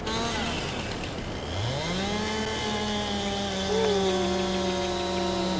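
A chainsaw in Farming Simulator 22 cuts into a tree, its engine revving up and then holding a loud, steady whine with no talk over it.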